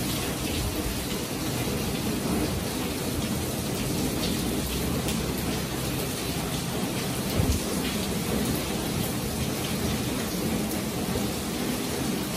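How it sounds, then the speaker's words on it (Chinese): Heavy rainstorm in Penang with gusting wind, a dense, steady wash of pouring rain that holds at one level throughout, with a faint low rumble of thunder partway through. "狂风暴雨。"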